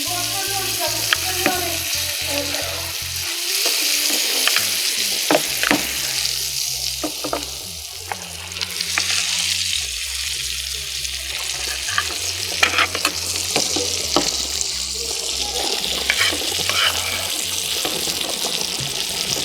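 Mutton burger patty frying in butter, a loud continuous sizzle close by with scraping and stirring sounds and some running water mixed in, no talking.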